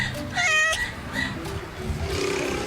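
A cat gives a single loud, close meow near the start, followed by rustling room noise, with no talking.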